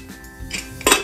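Metallic clinks and clatter as a steel pressure cooker whistle is set onto the lid, a few brief close knocks ending in one louder ringing clank.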